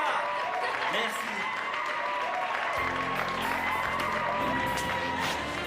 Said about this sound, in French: bravo, applaudissez-la.